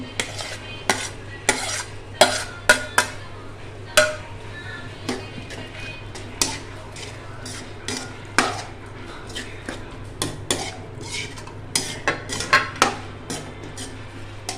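Tomatoes cooking down with chilli, ginger and garlic in a pan for tomato rice, a spoon scraping and clinking against the metal in an irregular rhythm of sharp knocks over a steady low hum.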